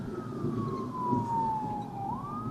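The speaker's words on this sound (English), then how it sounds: "Siren coming somewhere. Where's it coming from?" A wailing emergency siren sweeps slowly down in pitch and then rises again, fairly faint and distant, over low road noise.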